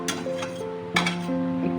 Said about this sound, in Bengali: একটুখানি ঢাকা দিয়ে দিই।